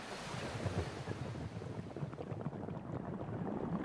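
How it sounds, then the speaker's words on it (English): Splashing water in the open sea, a broad, rushing surf-like wash with irregular bursts, fairly faint and steady throughout, with no voices. "Her blue fins splash loudly"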